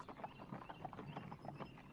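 Hooves of the king's hunting horses clip-clop in a steady, uneven rhythm, moderately close and fairly soft, with no voices over them.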